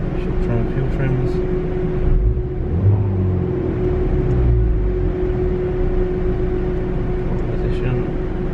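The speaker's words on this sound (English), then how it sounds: "See how hard the turbo's working as well." A Ford Fiesta ST180 engine drones steadily on a dyno while its turbo works hard, giving a constant loud rumble with a steady tone that swells slightly in the middle of the run.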